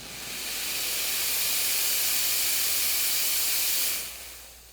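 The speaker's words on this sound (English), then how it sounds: "when I pull the trigger for the steam function, you're going to notice steam" A Carico ProSeries 360 steam cleaner releases a continuous loud hiss of steam that builds in over a moment, holds steady for several seconds, then cuts off abruptly to a faint residual hiss.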